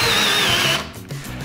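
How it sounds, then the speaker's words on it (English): A power drill whines steadily as it drives the pin on a wooden CNC-cut apple press, then winds down and stops, followed by brief mechanical clunks and ratcheting. "When nobody's looking, you pull out the drill."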